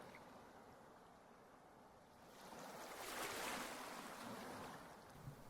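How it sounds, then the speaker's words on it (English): Ocean wave surging in open water, a broad wash of surf that swells and grows louder midway before easing, with wind noise on the microphone and no speech. "here comes a wave"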